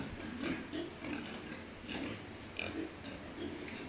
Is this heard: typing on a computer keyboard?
no